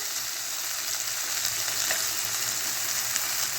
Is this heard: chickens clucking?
no